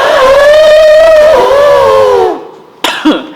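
A person's voice imitates an elephant trumpeting, a loud, drawn-out nasal blare with a wavering tone that fades out, followed by a brief noisy vocal burst.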